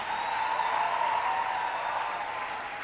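At a 2023 arts graduation ceremony, the hall applauds the graduating students in a steady wash of many people clapping that sounds a little distant and echoes around the room.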